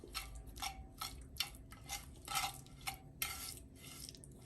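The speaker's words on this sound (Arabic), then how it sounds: "غنخدم هاد المكونات هادو مزيان حتى كنحصلوا على واحد البوماد" Hand-mixing of dough ingredients with a glass of oil into a soft paste for eggless Eid biscuits, heard as repeated soft squelching and scraping strokes in an irregular rhythm, close and fairly quiet, with no talking.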